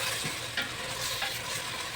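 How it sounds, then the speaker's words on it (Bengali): Fish with tomato and green chili sautéing in a pan, village-style fish curry, a steady close sizzle with occasional stirring scrapes and no talking. "তো এই যে এখন আমি এগুলো সব কিছু খুব সুন্দর করে কষিয়ে নিচ্ছি।"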